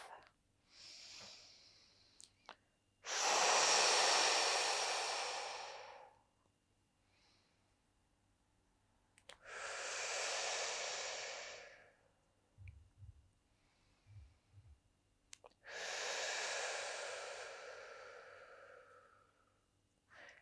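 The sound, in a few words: deep breathing during yoga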